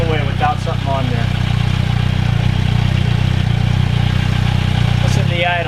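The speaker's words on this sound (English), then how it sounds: "still super subtle on the idle" A Kawasaki Versys 1000 motorcycle with a Holeshot slip-on exhaust idles steadily and evenly, close and loud throughout, with someone talking over it.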